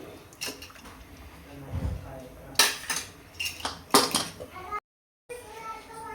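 Metal clatters against a pressure cooker, with a couple of clanking bursts as the lid is set on over boiling masala rice, and a voice speaks briefly nearby.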